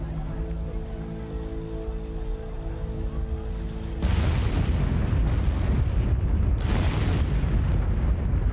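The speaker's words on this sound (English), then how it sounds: "Vesuvius explodes." Mount Vesuvius erupting: a sudden loud roaring blast bursts in about halfway through, following a steady low rumbling drone, then continues as a dense, sustained crackling roar with no voices.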